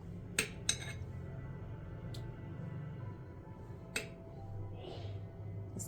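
A spoon clinks a few times against a bowl and plate while sweet yogurt is spooned onto papdi for chaat, sharp close taps with quiet stretches between them and a faint soft scrape near the end.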